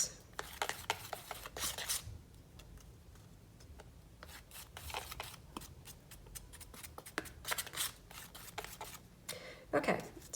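A paintbrush mixing a little yellow paint into another colour on a palette: soft, continuous scratchy brushing and rubbing strokes, close and quiet, with irregular bursts and no talking.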